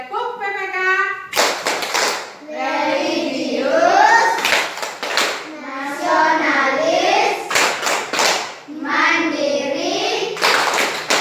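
A group doing the Tepuk PPK clapping chant: crisp, rhythmic bursts of hand claps alternate with sung chanting voices, the claps loud and close and falling in regular patterned sets.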